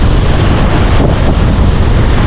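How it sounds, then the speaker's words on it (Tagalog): Rough, angry sea waves churning beside a seaside hut, with strong wind buffeting the microphone into a loud, constant roaring rush. "Oh, mga alon no. Galit na naman ang alon."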